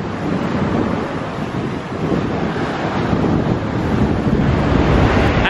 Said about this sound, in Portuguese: tá uma ventania muito forte